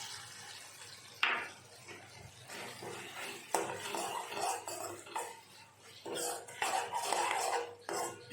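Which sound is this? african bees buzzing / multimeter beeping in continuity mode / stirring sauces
stirring sauces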